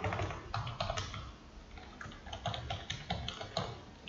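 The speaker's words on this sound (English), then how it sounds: "I'm just going to type my official mail here." Computer keyboard keys clatter in a quick, irregular run of soft taps while an email address is typed, heard close and quiet with no talk.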